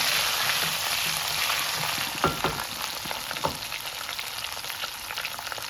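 Food fries in a tempering of oil in a pan with a constant hiss and sizzle, a few scraping stirs breaking through, heard up close with no voices.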